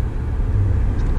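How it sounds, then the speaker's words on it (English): Cars on a small urban road make a steady, low rumble for about a second, a moderately close passing hum with no voices. "Those cars come both directions."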